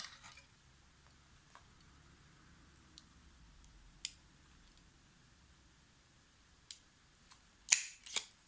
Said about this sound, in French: je vais faire un petit trou pour mettre un ruban